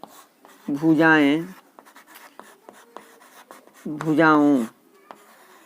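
Chalk or a marker scratches across a classroom board during a geometry lesson on triangles, with light scraping strokes between two short spoken phrases.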